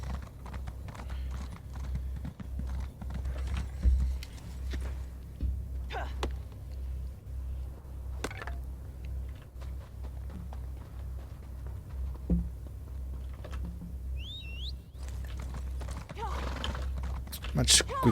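Horse hooves clip-clopping in the Elder Scrolls Online video game, a steady, fairly quiet galloping rhythm that runs throughout over a low ambient hum.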